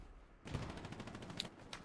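Gunfire in a Vietnam-era shooter video game: a quick burst of rapid automatic shots starts after a short quiet moment and crackles on at a steady pace, fairly faint, with a sharper crack near the end.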